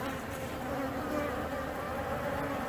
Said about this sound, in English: You can see some bees trying to take out a drone right there.